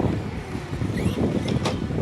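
Gusty wind rumbles against the microphone outdoors on a windy day where an RC truck is being driven, a dense, steady low roar with a faint high whine briefly rising through it.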